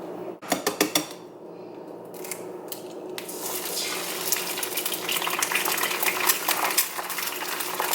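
Eggs and sweet potatoes cook in avocado oil in a pan, opening with a few sharp clatters of cookware, then a rising, steady sizzle and crackle that fills the rest, close by with no talking.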